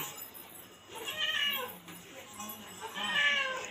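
Two drawn-out meows from a nearby cat over a faint background hum, with a pause between them.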